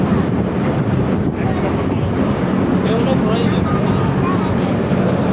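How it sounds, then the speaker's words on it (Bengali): On a ferry crossing to Khulna, wind roars over the microphone in a loud, constant rush, with the low rumble of the boat and water beneath it and no talk. "খুব সুন্দর বাতাস, ঢেউগুলাও দেখেন, চমৎকার একটা ঢেউ।"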